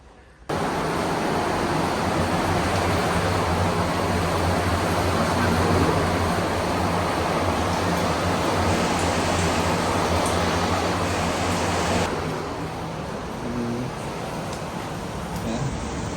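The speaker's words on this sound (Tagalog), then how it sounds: "Lakas na ulan ngayon mga tol." Heavy rain pounding down during a rainy holiday, a dense loud steady roar that continues unbroken, easing slightly toward the end.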